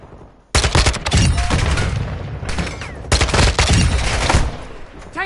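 Gunfire in a Call of Duty match on PS4, loud close bursts of rapid automatic shots in two long volleys separated by a brief pause, with no talking.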